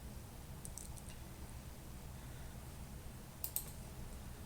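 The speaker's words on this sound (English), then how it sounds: "So I click on apply." A computer mouse clicks on an online visa application button: a few faint, sharp clicks in a quiet room, a quick cluster early on and another pair later.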